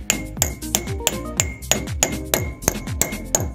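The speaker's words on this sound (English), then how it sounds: "Take our little cap guy, trusty handy dandy hammer." A hammer taps a metal wheel bearing cap on a Ford Explorer hub down flush, with about ten sharp, evenly spaced metallic strikes ringing close and loud, each with a short resonant decay.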